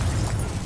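A Confringo spell blast goes off in a Harry Potter video game. It is a short, loud, rumbling burst that fills the brief moment on its own.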